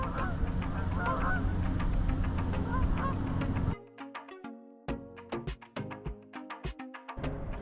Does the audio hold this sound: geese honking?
yes